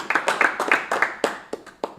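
A stand-up comedy crowd applauds a comedian leaving the stage, with sharp, uneven claps from a modest number of hands that are close and fairly loud, gradually thinning out toward the end.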